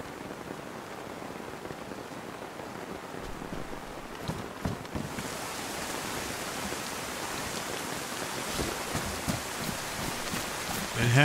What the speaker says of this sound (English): Had to rain today.